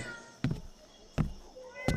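A cat meows three times, short and evenly spaced, fairly close in a quiet setting.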